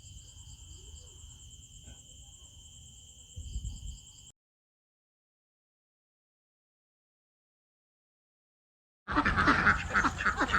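Domestic ducks quacking outdoors while feeding, with insects chirping steadily underneath; the sound cuts to silence midway, then returns as a loud, busy chorus of quacks and calls.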